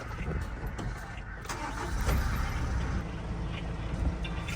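A vehicle engine runs steadily at close range, a low continuous rumble with slight fluctuations and no talking.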